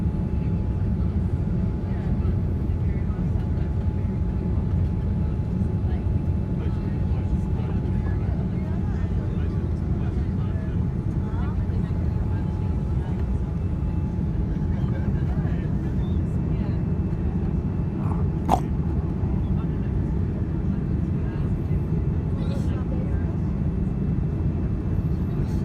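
Steady, loud cabin roar inside an Air Canada Boeing 787-9 Dreamliner a few minutes before landing, a continuous broadband engine and airflow hum with a faint whine and one brief click.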